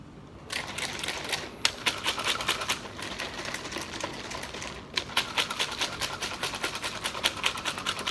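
A protein shake rattles inside a plastic shaker bottle in fast, even rhythmic shakes that carry on almost without a break after a short start, close and steady, with a brief pause midway.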